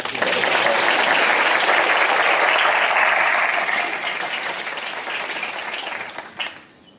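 A live audience at a property investor show breaks into loud, dense applause that holds steady for several seconds, then thins and fades out near the end.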